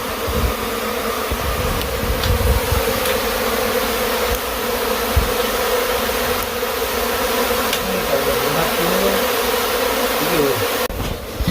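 Swarming bees buzz loudly and continuously close by while their nest is being broken apart and removed, a dense, unbroken drone with no pauses.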